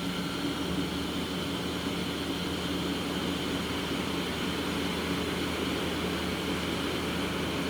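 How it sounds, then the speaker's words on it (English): 2013 Mazak Hyper Quadrex 450MY CNC turning center spindle running at a steady speed, a constant broadband whirring drone with faint tonal hum, even and unbroken from start to finish, close by. "That's the spindle running at 350"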